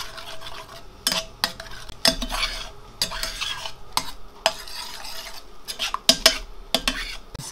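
Grain paste being stirred in a pot, with repeated scraping and clicking strokes of a utensil against the pot, close and irregular with soft wet sounds between strokes.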